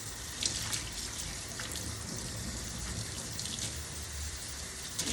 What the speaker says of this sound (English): you wanna wet and saturate the hair. And then like drain it a little bit